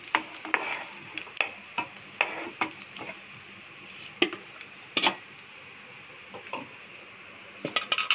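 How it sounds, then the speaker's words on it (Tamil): Cashews and raisins roasting in a pan, a continuous soft sizzle broken by frequent sharp clicks and scrapes of a spoon stirring against the metal, close and without talk. "முந்திரி நல்லா வறுத்துக்கோங்க. இப்போ திராட்சை சேர்த்துடலாம். சேர்த்துட்டு நல்லா வறுத்துக்கோங்க."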